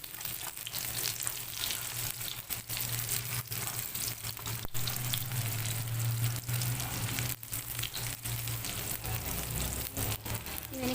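Potato kebabs (aloo kabab) frying in a pan, a steady close sizzle of hot oil that runs without a break throughout.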